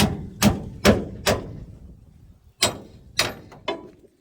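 Hard metallic hammer blows on axle parts during an axle install, one at a time, three strikes, a pause, then three or four more, each loud, close and ringing briefly.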